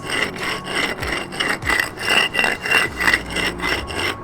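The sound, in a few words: smoothing a concrete ledge for skateboard grinding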